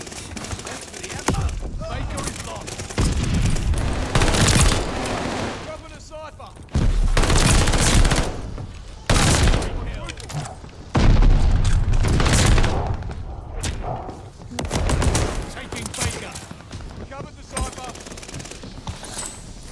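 Rapid bursts of PPSh submachine gun fire in Call of Duty: Vanguard, loud close automatic volleys in repeated strings with short gaps, alongside other gunfire and someone talking over the action.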